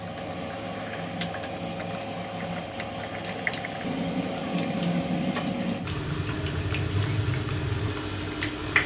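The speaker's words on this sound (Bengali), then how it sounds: "এখানে তেলে আমি কিছু পাকোড়া দিয়ে দিয়েছি।" Potato pakoras sizzle in oil over a medium-low flame, giving a steady, dense, close-up crackling hiss that rises slightly partway through and carries on without talk.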